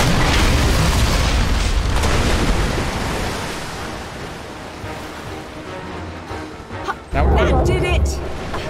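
Bomb explosions in the video game Lara Croft and the Temple of Osiris, a loud, rumbling continuous roar of blasts that eases off midway and then swells again, with voices talking over it.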